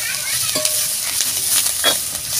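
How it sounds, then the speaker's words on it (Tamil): Fennel, cumin, cashews, poppy seeds, cinnamon, cardamom and cloves roasting in oil for a mutton curry, with a close, steady sizzle and the scrape of a spoon stirring. "சோம்பு, சீரகம், முந்திரி பருப்பு, கசகசா, பட்டை, ஏலக்காய், கிராம்பு இது நாலு இதெல்லாம் போட்டு நம்ம அந்த மசாலா வறுத்துருவோம்"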